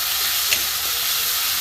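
Ground spices, salt and masala fry in oil for an egg dalna with potato and pointed gourd, producing a loud, even hissing sizzle with one brief spatter.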